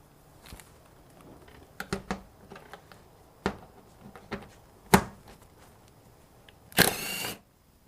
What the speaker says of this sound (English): we're going to just take the bolts off that are outlining the undercarriage now